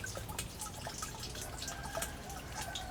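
Water is poured into a container, giving a steady close splashing and trickling with scattered drips throughout, at an even moderate level and with no talking.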